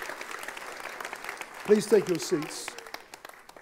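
A church congregation giving a clap offering during a Sunday service, a burst of applause from many hands that builds and fades over a few seconds while a voice speaks over it.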